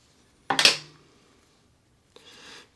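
Scissors snip a marabou tail to length while tying a jig marabou leech fly, one close, sharp cutting sound followed by a fainter rustle a moment later.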